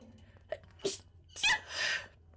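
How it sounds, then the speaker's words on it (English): Two sneezes from a streamer with allergies, a short sharp burst followed by a fuller, louder one, close and alone in a quiet room with light breathing between. "I have to sneeze again"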